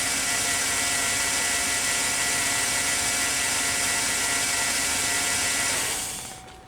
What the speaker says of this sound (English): I'm going to turn off the vehicle